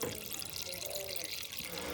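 Water pours steadily into a fuel filter bowl, a soft continuous trickling and gurgling heard close up and alone.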